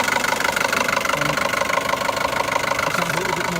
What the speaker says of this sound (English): It sounds a little bit more like a diesel than a petrol because of the top end noise